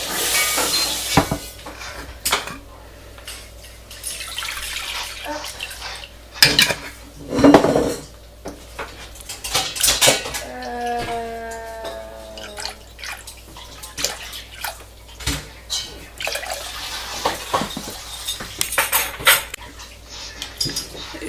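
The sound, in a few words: pouring milk into a cooking pot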